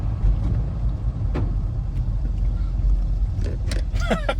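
A 1950 Ford F-1 pickup truck rolls along with a low, steady engine and road rumble heard from inside the cab, with a few faint rattles and clicks near the end.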